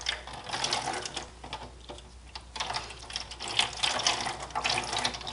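Dyed yarn is lifted out of hot water in a crock pot and squeezed, giving close splashing, dripping and trickling water in uneven bursts, with a brief quieter pause midway.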